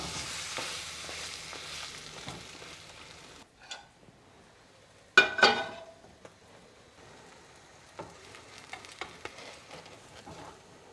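Eggs frying in a pan for a breakfast burrito: a steady sizzling hiss that drops away, then a sharp clatter as they are flipped, followed by renewed sizzle with light pan knocks.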